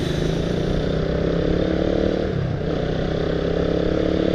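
Motorcycle engine pulling away and accelerating after a U-turn on an urban road in Bekasi, a steady loud mid-pitched drone with rattle and wind throughout, no talk.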